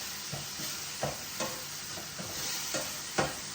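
Garlic frying in a pan for a blackened cod and tomato garlic sauce, a steady sizzle under repeated soft scrapes of stirring, close and even with no voices.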